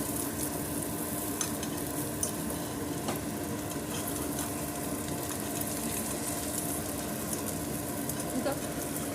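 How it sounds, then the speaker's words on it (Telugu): An omelette fries in a pan with a steady, close sizzle and crackle throughout, and faint scraping and stirring sounds now and then. "ఆమ్లెట్ తిప్పుకుందామండి"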